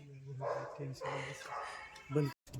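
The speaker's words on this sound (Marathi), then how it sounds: "भुंकलाले" A dog gives a few faint, short barks and yips in quick succession, fairly quiet and close, ending in a brief silence.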